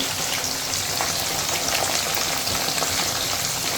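Corn kernels fry in a hot pan with a dense, steady sizzle and crackle that holds evenly close-up for the whole stretch, with no voices.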